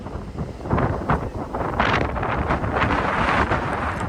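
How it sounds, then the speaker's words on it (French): Wind blowing by the sea, a loud, gusty rush buffeting the microphone in uneven bursts with a low rumble beneath, and no talking. "Wesh, le vent."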